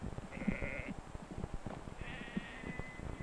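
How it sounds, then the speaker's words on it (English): Sheep bleat twice, in two drawn-out calls, while being driven into a pen by a sheepdog in the Scottish Highlands, over a steady background of shuffling and movement. "But here are some sheep that don't want to go in."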